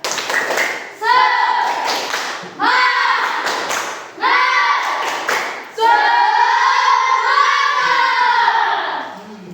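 A class performs a rhythmic spirit clap in a classroom, with repeated patterned bursts of hand claps and taps alongside loud chanting children's voices.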